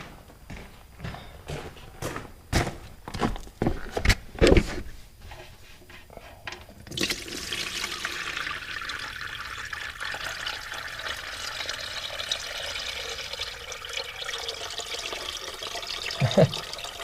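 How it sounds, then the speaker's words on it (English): Water pours out of a drain plug on a Case 1840 skid steer, a few sharp knocks first, then a steady, close rushing stream that continues to the end. "I'm gonna drain this plug here."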